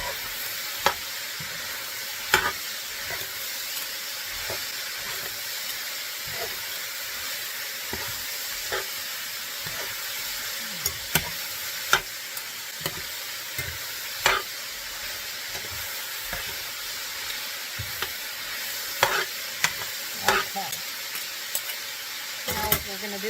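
Beer brats, pasta and cabbage are stirred together in a sizzling pan, a spoon scraping and clinking in irregular strokes over a steady frying hiss, close and moderately loud with no talking.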